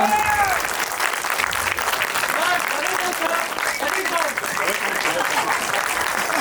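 An audience at a 'Tourist Family' fan event breaks into sustained, dense applause that holds steady throughout, with a voice rising over the clapping.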